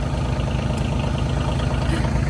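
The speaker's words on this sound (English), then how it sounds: "So now he's firing up the tractor" A tractor engine idles with a steady low, chugging rumble, close by and fairly loud, its even pulse continuing without pause outdoors after an ice storm.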